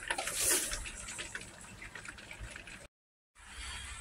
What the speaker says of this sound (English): let's get some water running for them